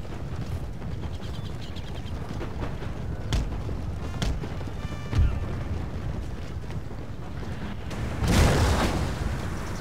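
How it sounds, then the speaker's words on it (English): Distant cannon fire in the Empire Total War video game, heard as scattered dull booms and a heavier rumbling blast near the end over a steady background noise of battle. "Shooting cannons at me over here"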